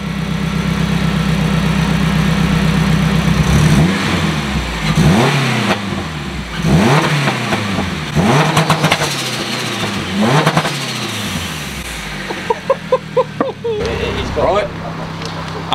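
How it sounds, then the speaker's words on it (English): A turbocharged Honda Civic EP3 engine idles nearby and is revved about five times in quick rising and falling sweeps, then settles back to a lumpy idle. "Right, give it a cheeky rev."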